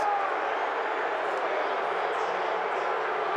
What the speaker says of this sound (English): And you're hearing the crowd react.